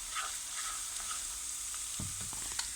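Onions and garlic fry in a pan for a lentil curry, giving a soft, steady sizzle with a few light stirring knocks, close by and fairly quiet.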